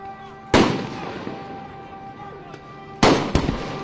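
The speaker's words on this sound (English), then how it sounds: "You can hear the explosions." Loud explosive bangs at a Los Angeles street protest against ICE, one sharp blast early on and a pair of close booms near the end, each with a broad crackling tail over a steady background hum.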